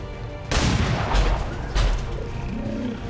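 Two sharp gunshot blasts from the video game XCOM 2 ring out about a second apart, each followed by a booming decay over a low background hum.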